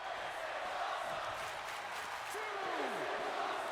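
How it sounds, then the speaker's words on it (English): A large arena crowd in the WWE 2K20 wrestling video game chants and roars in a steady wash of noise, with a commentator talking over it. "The crowd chanting, "This is awesome,""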